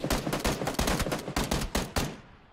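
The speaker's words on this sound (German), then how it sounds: "Du siehst doch die Schüsse" Rapid gunfire from the video game PlayerUnknown's Battlegrounds cracks out in a quick series of loud, closely spaced shots that trail off near the end.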